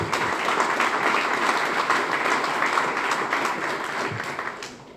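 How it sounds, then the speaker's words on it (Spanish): Full, steady applause from an assembly at a commemoration of Colombia's 1991 Constituent Assembly, a dense clapping wash that holds evenly before fading out at the close. "Para él, un saludo y un aplauso."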